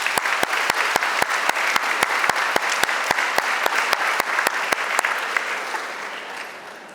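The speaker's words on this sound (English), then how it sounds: "Let's give them another round of applause." An audience at a convocation applauds steadily, with sharp, evenly spaced claps ringing out over the crowd's continuous clapping, which gradually fades away.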